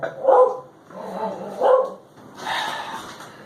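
A dog barks several times at a moderate distance, the barks coming in irregular bursts with short pauses between them.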